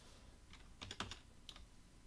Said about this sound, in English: I'm using the down arrow keys to go to the next cell.